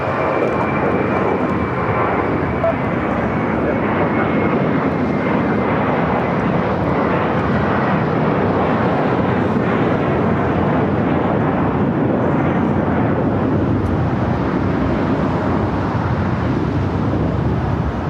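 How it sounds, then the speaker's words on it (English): An American Airlines jet, flight 274 bound for JFK, takes off from LAX with a loud, sustained engine roar that stays steady and broadband across the whole stretch, with no talk over it. "The flight taking off was American Airlines flight 274 heading to JFK"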